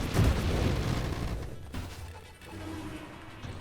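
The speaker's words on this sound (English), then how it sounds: "look at those explosions" Explosions go off in the space shooter Nova Drift, a loud booming blast at the start that fades out, followed by a second, smaller crash, heard without any talk.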